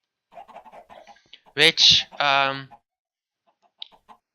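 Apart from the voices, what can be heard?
baby chickens clucking in Minecraft video game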